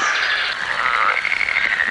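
Frogs croaking in a loud, close chorus of rapid, rhythmic trills that carry on without pause and with no talk.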